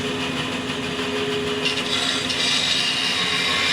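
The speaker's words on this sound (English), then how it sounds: "The bandsaw I'm using here is a 14-inch bandsaw with a 3/8 inch blade" A 14-inch bandsaw with a 3/8-inch blade cuts the profile of a wooden acoustic guitar neck, giving a steady, close, continuous whir and buzz with no pauses.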